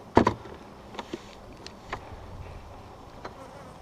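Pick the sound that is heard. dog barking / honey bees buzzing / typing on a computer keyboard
honey bees buzzing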